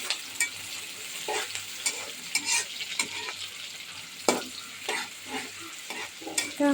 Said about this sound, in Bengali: এখন এর মধ্যে পেঁয়াজ এবং কাঁচামরিচ কুচি দিয়ে দিলাম।